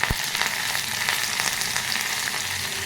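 Onion, dried red chillies and curry leaves sizzling in hot oil, a steady close crackling hiss with a sharp initial spatter, no talk.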